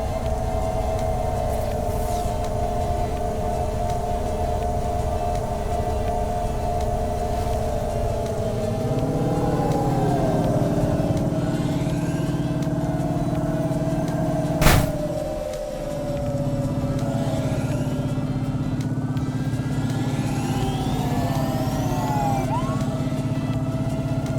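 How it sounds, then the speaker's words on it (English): Steady engine rumble from traffic in the cyberpunk flying-car game Cloudpunk, a continuous droning hum with shifting tones and a brief sharp click midway, with no talk. "Tends to be a bit louder too when there's more cars around. All the other car engines."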